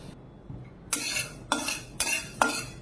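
Black pepper and fennel seeds dry-roast in a pan, a spoon scraping and rattling them in four distinct, fairly close strokes over a faint background.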